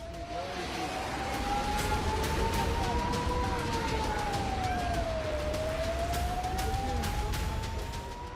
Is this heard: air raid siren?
yes